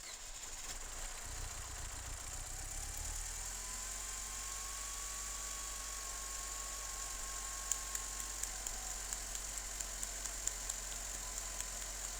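A Mercedes W204 with the M271 engine, having sat unused for over a year, cranks and settles into a steady idle, a constant low hum with a faint whine and a few light ticks, no talk.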